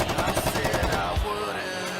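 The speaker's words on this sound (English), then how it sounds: "They are the gunshots in their opening." Rapid bursts of gunshot sound effects rattle through a wrestling tag team's entrance music at a live wrestling event, loud and dense against the pounding track for about a second before the music carries on.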